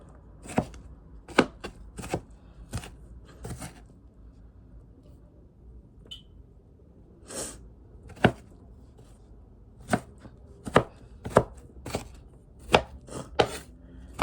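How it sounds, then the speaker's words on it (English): A knife chops fresh ginger and turmeric on a board by hand in sharp, close, irregular strikes. Some come in quick runs of two or three and others fall after longer pauses, with no talk over them. "I'm chopping these up a little bit finer"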